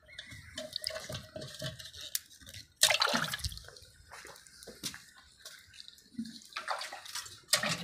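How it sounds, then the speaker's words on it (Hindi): Radishes being washed by hand in water in a village home in Punjab, Pakistan, with splashing and sloshing, trickles and drips, and one louder splash midway, close by and uneven in rhythm. "आज मैं मूलियाँ धो रही हूँ"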